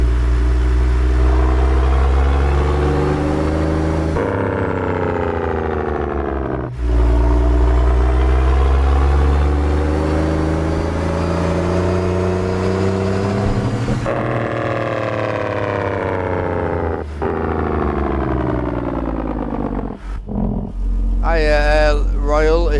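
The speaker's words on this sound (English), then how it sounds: "New 14 litre Detroit, the updated one from Z-Mods." A modded Peterbilt 389 truck with a 14-litre Detroit engine in a trucking video game drones loudly through long gear pulls, pitch climbing then dropping at each shift, with brief speech near the end.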